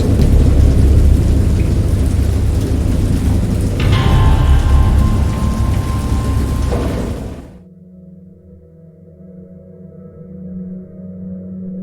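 Heavy rain and deep rumbling thunder roar loudly for several seconds in the video game Dagon, then cut off abruptly, leaving a quiet low hum.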